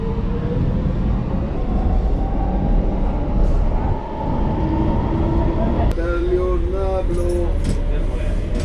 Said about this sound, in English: That's the train I probably need to get on